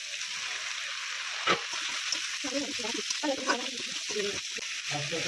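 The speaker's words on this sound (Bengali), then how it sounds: "এবার এর মধ্যে সেদ্ধ করা পাস্তা দিয়ে দিচ্ছি" Boiled pasta is tipped into spicy sauce in a frying pan, giving a steady soft sizzle with a few louder stirring and scraping clatters.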